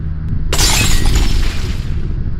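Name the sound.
glass windows shattering, sound effect in audio story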